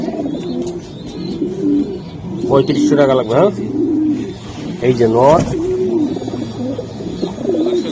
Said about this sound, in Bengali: এই কবুতর পাবে না অনেক কড়া কবুতর ভাই